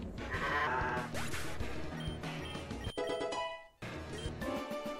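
A black sheep Pokémon's cry in Pokémon Uranium, a dense electronic bleat amid loud game music and effects, with a short break before the sound resumes.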